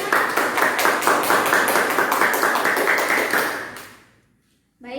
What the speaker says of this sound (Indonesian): Beri tepuk tangan untuk anak-anak.